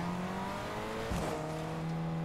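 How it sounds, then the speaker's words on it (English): A slow car driving in the Fortnite video game gives a steady, droning engine hum that stays level throughout, with a brief bump in the middle and no talking. "This car moves so slow it can't even break these fences"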